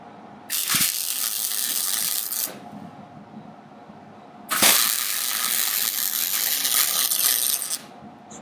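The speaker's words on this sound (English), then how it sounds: "now we're welding the casters." Welding casters onto a welding cart frame made from an old Craftsman tool box, two loud steady crackling arc bursts of about two and three seconds, each starting with a sharp strike, separated by a quiet pause.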